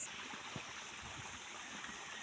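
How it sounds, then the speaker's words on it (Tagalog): A strong river flows near San Mateo, Rizal, as a faint, steady broadband rush of water with no breaks or voices. "Malakas din pala yung tubig dito."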